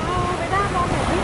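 Sea waves washing in at a beach, a brief rush of surf and wind noise across the microphone, with faint tonal sounds over it.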